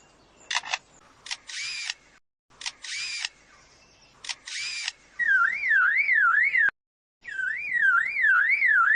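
A bird mimics a car alarm, producing a loud, rapidly warbling electronic wail that cycles up and down continuously. A brief pause breaks it before it resumes, and it follows a few sharp, clicking mechanical-sounding calls.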